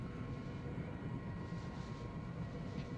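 Inside a helicopter in a video game, a steady low engine and rotor drone hums continuously with a faint high whine, filling the short stretch without any talk.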